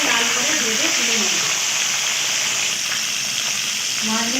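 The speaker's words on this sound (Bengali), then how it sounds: "মাছগুলো আমি উল্টে পাল্টে লাল করে ভেজে তুলে নেব।" Catla fish pieces sizzle in hot oil in a wok as they are turned and browned, a dense continuous hiss with a voice speaking over it at the start and end.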